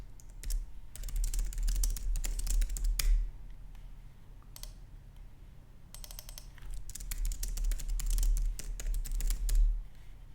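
Rapid clicking keystrokes on a computer keyboard while text is edited, coming in two dense bursts separated by a short quieter pause, close and crisp with no talking.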